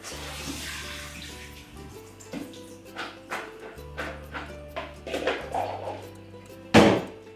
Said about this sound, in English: They are soaked in filtered water, and all I'm going to do now is drain them out.